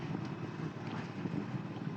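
South wind blowing across an anchorage, heard from aboard a sailboat: a steady, broad rushing hiss with low rumbling gusts and buffeting, continuous throughout with no talk.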